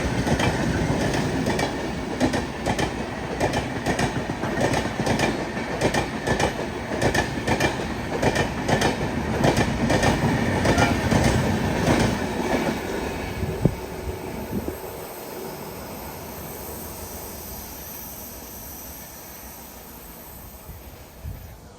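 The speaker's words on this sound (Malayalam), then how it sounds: "ഇത് കൊങ്കം വഴി ഇൻഡോറിലേക്ക് പോകുന്ന വണ്ടിയാണ്" An early-morning passenger train bound for Indore rumbles past Idappalli Railway Station in Kochi with steady rhythmic clickety-clack of wheels on rails, loud at first and gradually fading as it moves away.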